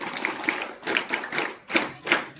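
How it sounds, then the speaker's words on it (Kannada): An audience at a speech clapping hands, heard as sparse, loose claps and taps in uneven clusters rather than full applause, fairly close and moderately loud. "ಅವರಿಗೆ ನಾವೆಲ್ಲರೂ ಕೂಡ ಒಂದ್ಸರಿ ಹ್ಯಾಂಡ್ಸ್ ಬಗ್ಗೆ ಚಪ್ಪಾಳೆ ಹೊಡೆಯೋಣ"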